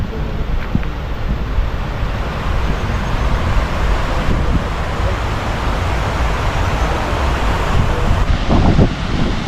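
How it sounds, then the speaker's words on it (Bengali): Rushing water pours under a roadside culvert in the rainy season, a steady, loud broadband roar that holds throughout, mixed with wind buffeting the microphone. "একটা কালভার্টের নিচ দিয়ে কত জোরে জল বয়ে যাচ্ছে, কত জোরে জলটা বয়ে চলেছে দেখুন।"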